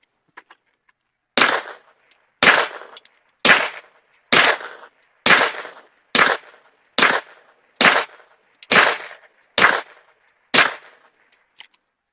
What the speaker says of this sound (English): this time we're going to shoot the 115 grain CCI Blazers